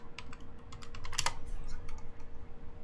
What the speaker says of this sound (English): I'll just type in Tweaktown then.